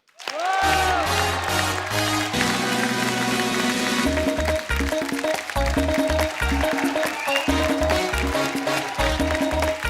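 Studio audience applause on The Kapil Sharma Show welcoming actress Esha Deol, sustained clapping and cheering mixed with a loud musical entrance theme that dominates throughout.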